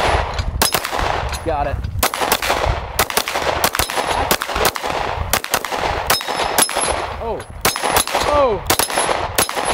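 Gunshots ring out against metal targets in irregular bursts, each sharp crack followed by a bright metallic ping that lingers briefly, the shots spaced unevenly across the stretch with a couple of short spoken remarks in between.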